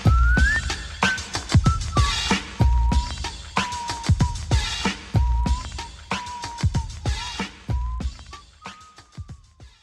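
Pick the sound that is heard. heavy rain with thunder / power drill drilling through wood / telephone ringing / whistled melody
whistled melody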